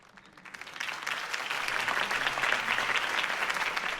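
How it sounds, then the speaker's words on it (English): A crowd applauds steadily in the video game Batman: The Telltale Series, the clapping swelling after a soft start and holding loud and dense with no voices on top. "could have heard that applause"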